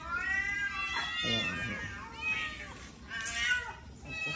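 Hungry kittens meow insistently, overlapping high cries rising and falling close by, with a voice speaking briefly among them.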